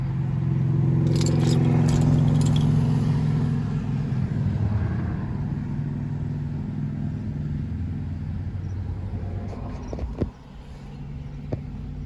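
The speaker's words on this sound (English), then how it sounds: "that sound, of course, was the 2-liter turbocharged inline 4-cylinder starting" A 2015 Audi A3 2.0T quattro's turbocharged 2.0-litre inline four-cylinder fires up from inside the cabin, a loud low rumble settling into a steady idle hum, with a faint click near the end.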